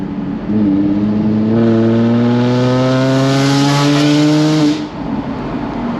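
Jaguar F-Type convertible (X152) engine, heard with the roof down: a loud, close, steadily rising engine drone that holds and builds for several seconds, then drops away, raucous and buzzy, with no talk.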